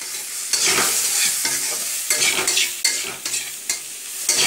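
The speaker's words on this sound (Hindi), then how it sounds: "मिर्च अपने स्वाद के अनुसार डाल लीजिए और भूरा होने तक उसको अच्छे से फ्राई करिए" Chilies sizzling in hot oil in a pan while a spoon stirs them in repeated scraping strokes, a steady close fry broken by rhythmic bursts of stirring.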